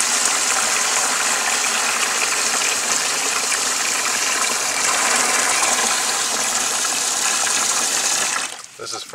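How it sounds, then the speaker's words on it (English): Mountain water, brownish green from algae in the pipes, runs from a hose onto a board being rinsed, a loud steady hiss and splash that cuts off near the end. "Use some of our mountain fresh water here. Comes out of the hose,"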